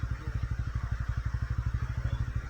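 A motorbike chugs at low speed along a mountain road in Uttarakhand as it pulls into a parking spot, its single-cylinder exhaust beating in a quick, regular thump close by.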